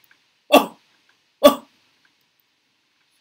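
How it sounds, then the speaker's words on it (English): Two short, sudden isolated coughs from one person, about a second apart, fairly close and alone against silence. "So you can see this cough"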